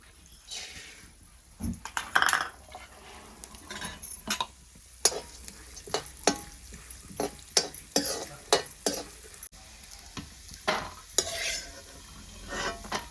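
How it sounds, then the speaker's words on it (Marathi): Dal is dry-roasted in a pan over a wood-fired stove and stirred, giving repeated scraping strokes and light clinks in an uneven rhythm over a faint background hiss. "डाळ भाजून घेते."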